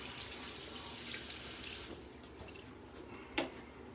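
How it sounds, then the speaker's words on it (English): A bathroom tap runs steadily while hands are rinsed under it before a straight-razor shave, the water splashing and gushing close by and then easing off, ending in a brief sharp clink. "I'll rinse my hands here."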